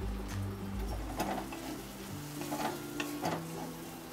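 Jeera-dhania powder and red chili powder fry in a hot pan for a Maharashtrian potato curry, giving a steady close sizzle broken by repeated scraping stirs of a spoon.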